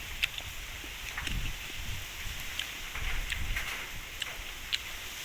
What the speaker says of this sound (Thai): ฝนกำลังมาครับ